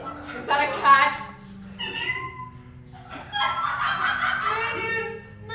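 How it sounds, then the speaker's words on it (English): A cat meows several times in short, wavering calls at close range. The later calls overlap with other voices and chatter. "Sounds like a cat."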